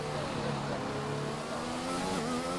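A McLaren race car in a racing video game at Zandvoort circuit, its engine droning steadily and loudly at high revs on board, with no gaps, alone and continuous.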